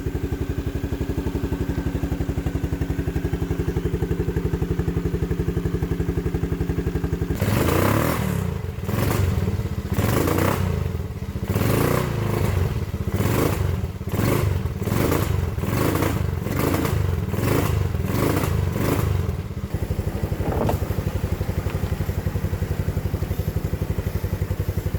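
A mud buggy engine, with four-wheel drive that doesn't work, runs loud and steady at idle, then breaks into a series of rhythmic revving bursts with clattering thumps before settling back to a steady idle.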